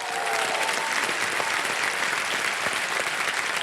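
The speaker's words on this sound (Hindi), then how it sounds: "मैं चाहता हूं कि जोरदार तालियों के साथ स्वागत किया जाए" A studio audience on the KBC quiz show bursts into dense, loud applause that stays steady from start to end, with no pause or speech.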